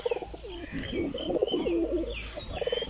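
Pigeons kept by a pigeon fancier coo close by in a steady stream of soft, throaty repeated calls, with a few higher chirps mixed in and no talking.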